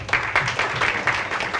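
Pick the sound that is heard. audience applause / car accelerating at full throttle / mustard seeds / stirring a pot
audience applause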